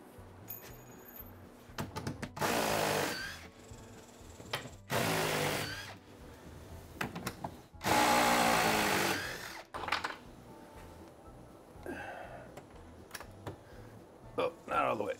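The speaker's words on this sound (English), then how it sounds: "drill this one through the backing into the stud" A power drill whirs in three loud bursts, each several seconds long, drilling through a backing board into a wall stud, with quieter handling noises and soft clicks in between.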